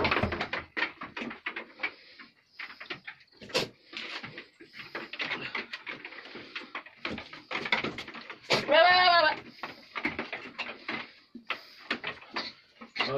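Young goat kids bleating on a goat farm in Bihar, a wavering cry standing out mid-clip among busy farmyard sounds, with someone talking throughout.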